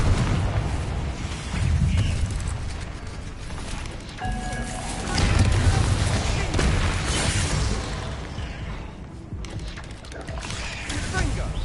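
Repeated Confringo blasting spells explode in Hogwarts Legacy during a chaotic fight, a series of loud booms and bursts over dense rumbling game noise.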